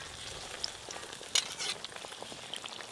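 Eggplant fritters (beguni) are frying in hot oil, giving a soft, steady crackling sizzle with a few brief sharper pops, heard close by without any talking.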